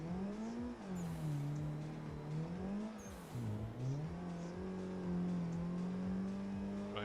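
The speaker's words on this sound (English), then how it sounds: "This car just seems so dead to me for some reason whenever I accelerate" A car engine in a drifting video game revs and accelerates, its tone rising, dipping and climbing again with shifts and throttle changes, steady and fairly loud with no talking.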